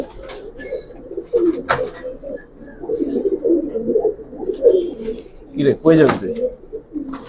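Giribaz pigeons coo in repeated low warbling bursts near the microphone while someone speaks briefly over them, with a few sharp clicks and rustles.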